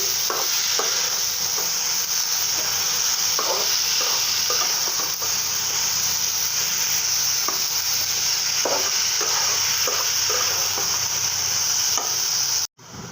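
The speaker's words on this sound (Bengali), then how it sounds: "এখন আমি ভাজিটা বাগার দিয়ে নেব, পেঁয়াজটা লাল করে নেব।" Onions and vegetable bhaji frying and being tempered in a pan, an even, loud hiss of oil with a spoon scraping and stirring at intervals, alone without talk until a sudden cutoff at the end.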